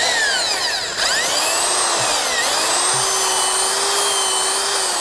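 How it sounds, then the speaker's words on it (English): A steady, loud motorized auger drilling into soil, a whine with grinding texture throughout, pitch dipping slightly under load, with a faint knock or two underneath. "I'm going to insert the auger now, keep it really straight as you possibly can"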